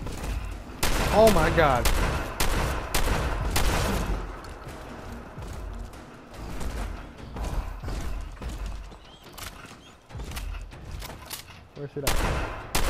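Rapid bursts of gunfire from a rifle in the game Fallout 4 crack repeatedly in dense volleys, loud and close, while a player speaks excitedly over the shots.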